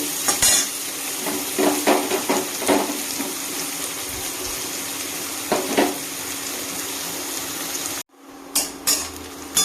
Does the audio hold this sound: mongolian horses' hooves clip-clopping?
no